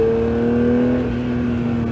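A Porsche 911 GT3 of the 992 generation accelerates hard on a race circuit, its engine note holding a steady, loud rising tone close by throughout.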